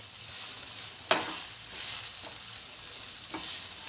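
Soya chunks sizzling in a pan, a steady hiss of frying with a few sharp scrapes and clicks as they are stirred, close and alone with no talking.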